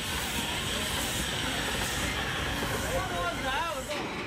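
A steam train on China's last steam line arrives at a station, a steady loud hiss and rumble with faint squealing wheels toward the end, under a narrating voice.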